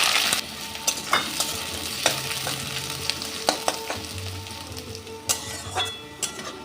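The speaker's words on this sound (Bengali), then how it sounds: "আমি এখানে কিছু পেঁয়াজ ভেজে নেব" Onions fry in hot mustard oil in a pan with a steady close sizzle, punctuated by sharp stirring clinks and scrapes every second or so.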